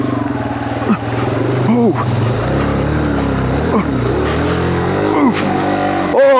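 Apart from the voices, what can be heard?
Yamaha TW200 motorcycle riding through deep muddy water crossing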